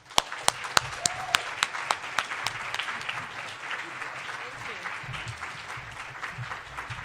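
An audience claps to welcome a speaker at a Pecha Kucha presentation event. A few sharp, loud claps come first, then they spread into a steady crowd applause that slowly fades.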